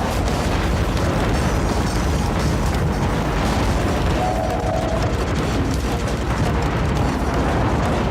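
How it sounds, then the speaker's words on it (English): Dense, continuous cannon fire and explosions from the Under Defeat arcade shoot-'em-up, a loud unbroken roar of blasts and booms filling the whole stretch with no talk. "Let's deploy the cannon here."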